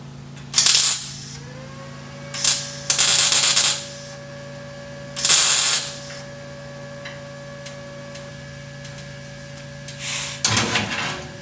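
Bursts of welding on a VW Karmann Ghia body, several crackling sizzling spurts of one to two seconds each with pauses between, over a steady low machine hum and a faint whine.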